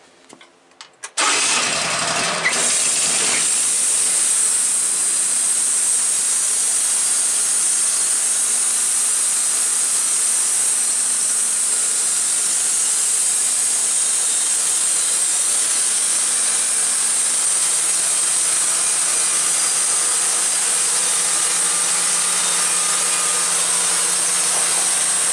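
A Woodmizer LT15 sawmill band saw fires up with a brief burst, then holds a loud, steady high whine as it cuts a board, running unbroken and close for the rest of the stretch.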